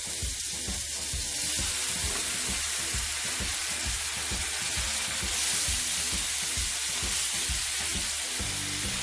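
A hamburger patty sizzles steadily in a pan for breakfast, a loud, continuous dense crackle with a regular underlying tapping pulse and no voices.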